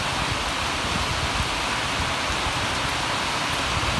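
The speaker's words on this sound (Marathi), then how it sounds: "आता पाऊस आलाय जोर" Constant downpour near a Shiva temple fills the air with a thick, even roar of rain, steady throughout and without any talking.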